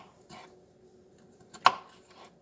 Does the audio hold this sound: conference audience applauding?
no